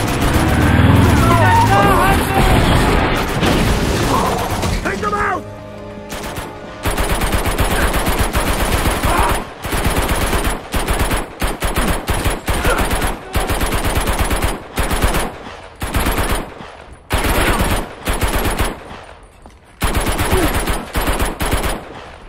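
Machine-gun fire in the video game Uncharted 2 rattles in loud repeated bursts aimed at a vehicle's tire, broken by short pauses, over a steady engine drone from a chase, with brief voices at the start.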